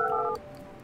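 Telephone dialing tones in the video game Project Highrise: a steady multi-tone DTMF beep holds for about a third of a second, then cuts off to quiet background hum.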